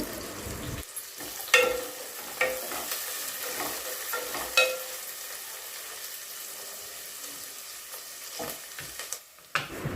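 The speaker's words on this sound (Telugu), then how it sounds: "అట్లనే కట్ చేసుకున్న ఉల్లిపాయలు కూడా వేసుకుందాం ఈ ఉల్లిపాయలు ఒకసారి కలబెట్టుకోవాలి" Chopped onions frying in a pan for mutton curry give a steady sizzle, broken by several sharp scrapes and clinks of a spoon stirring, with no voices.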